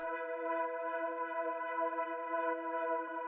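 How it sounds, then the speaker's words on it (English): A sustained EBM techno synth chord with a filter LFO and steady layered tones, shimmering slightly as cascading echo repeats blend into a continuous wash. "we're getting like those cascading repeats over top of each other"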